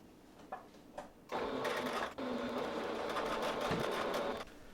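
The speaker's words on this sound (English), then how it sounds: "then sewing it down in place" A sewing machine stitching down a folded fabric hem, a steady fast mechanical whirr running for several seconds after a few short starts, close by, no talking.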